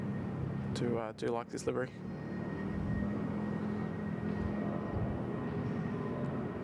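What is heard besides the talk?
Bangkok Air Airbus A319 on its takeoff roll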